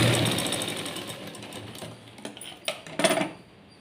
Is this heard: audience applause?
no